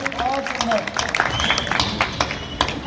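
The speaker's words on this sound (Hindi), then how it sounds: "केजरीवाल जी के लिए जोरदार ताली बजा दीजिए" Crowd applause and scattered clapping at a Holi poetry gathering in Bareilly, a moderate, uneven patter that runs under voices for a few seconds.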